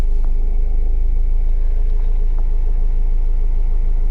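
A Rover 75 CDT diesel engine idles in drive with the handbrake on, a loud, steady low rumble and clatter that holds an even pace, close by and with no talking.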